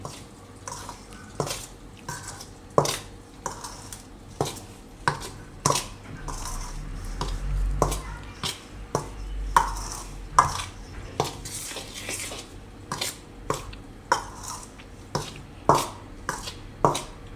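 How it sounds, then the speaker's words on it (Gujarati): A spoon stirs spices and chili powder together in a bowl for a Gujarati soya stick snack, making steady clinks and scrapes about once a second, close and moderately loud, with no talking. "હવે આ બધું આપણે મિક્સ કરી લેવું આ રીતે."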